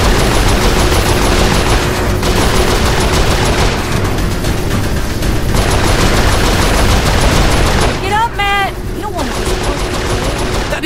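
Saints Row IV video game gunfire: dense, continuous shooting and bursts fill the scene at high volume, mixed with game effects and a brief whooshing, chirping sweep near the end.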